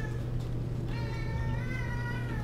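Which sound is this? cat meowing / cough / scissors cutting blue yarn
cat meowing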